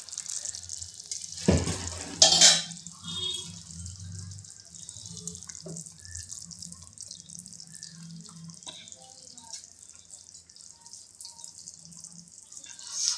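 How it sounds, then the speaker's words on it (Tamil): Oil-fried eggplant curry (ennai kathirikkai kuzhambu) poured onto a plate of rice at home: a short, close splashing pour near the start, followed by quieter faint clinks and soft kitchen sounds. "இப்போது நான் கொஞ்சம் குழம்பு சாப்பாட்டில் ஊற்றி சாப்பிட்டு பார்க்குறேன்."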